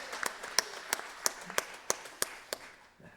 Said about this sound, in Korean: 귀한 찬양 인도한 우리 찬양단을 위하여서 다시 한번 격려의 박수하겠습니다